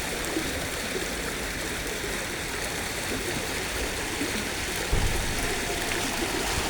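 Steady rushing of flowing water fills the whole stretch, a constant broadband wash with a small splash near the end.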